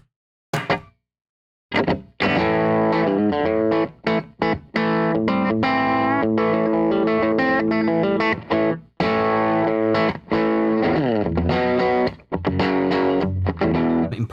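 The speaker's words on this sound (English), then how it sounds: "I'm not running it with super high gain settings. I kind of like it sounding more like a traditional cranked amp." An electric guitar runs through a Westminster Effects pedal into a mildly driven, cranked-amp breakup tone, playing loud, continuous phrases of notes and chords after a brief pause near the start.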